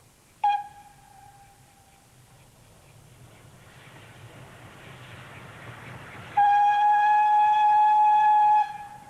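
A Great Western steam train whistle blows once, then the rumble of the approaching engine builds as it arrives before a second, longer whistle sounds loud and close.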